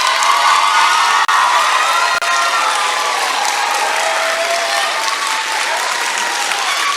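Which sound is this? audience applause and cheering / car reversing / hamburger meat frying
audience applause and cheering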